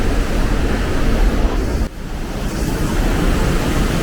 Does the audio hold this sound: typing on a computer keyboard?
no